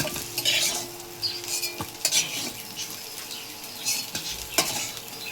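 Fried jackfruit pieces stirred and scooped from a hot pan of oil: repeated metal scrapes and clinks of a spatula against the pan over a soft sizzle, close and busy throughout.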